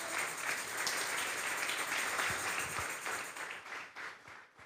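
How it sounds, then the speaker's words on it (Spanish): A church congregation applauds steadily, dense clapping that holds for several seconds before thinning out near the end. "Denle un fuerte aplauso al Señor esta tarde."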